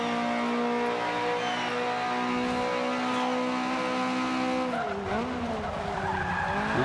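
A front-engine, rear-wheel-drive car in Forza 5 slides through a turn, tires squealing in a long sustained screech over a droning engine, the pitch wavering as the slide shifts near the end.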